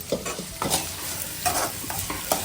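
Food sautéing in a hot pan at a home cooking session, steady sizzling broken by a few sharp bursts as a spoon stirs and scrapes, close and moderately loud.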